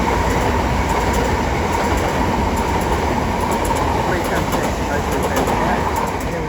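A Southeastern Class 376 electric train pulls out of New Cross station with a loud, steady rumble close by and faint rhythmic wheel clicks.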